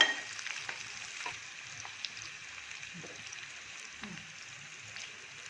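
Onion cooks in hot oil for a curry, giving a faint, steady sizzle with occasional soft stirring scrapes, quiet and close.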